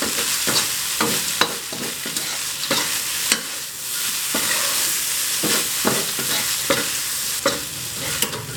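Minced pork with holy basil and fried chilies stir-fried in a hot pan, a steady loud sizzle broken by repeated sharp scraping strokes of a spatula at a quick, uneven rhythm, close up with no voices.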